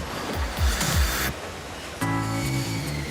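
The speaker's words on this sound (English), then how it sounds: "The motor generates a constant 100-mile-an-hour stream of air that sucks dust up from hard floors." A Numatic Henry Compact Xtra HVX160 vacuum cleaner sucks air with a broad, rushing roar. Surging swooshes give way to a steadier humming motor tone, close and fairly loud.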